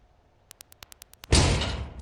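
A door opens in a video game: a quick run of soft clicks or knocks gives way to a loud, sustained sliding whoosh that fades slowly, with no talk.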